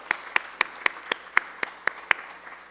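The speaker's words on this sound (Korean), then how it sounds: "우리 다시 한번 박수로 축복합니다." Applause in a church, heard as nine or ten sharp, evenly spaced claps in a steady rhythm, crisp and close, with no voices.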